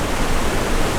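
A rushing river at a trail crossing on the Everest Base Camp trek, a loud, steady wash of churning water with no break, close by and alone.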